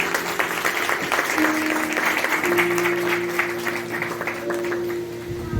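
Congregation in a church applauding during a Palm Sunday sermon, dense sustained clapping under a steady tonal hum, with a few brief voices rising through the noise.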